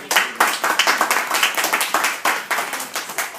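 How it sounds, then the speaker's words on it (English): A small audience claps for a librarian at a speaking event, in quick scattered hand claps that thin out and ease off over a few seconds with no talking over them. "So if we can all give her a round of applause for it."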